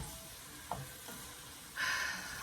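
Cremini mushrooms sautéing in a pan, a soft steady sizzle with a couple of brief stirring scrapes, then a louder hiss swelling near the end, close by with no talk.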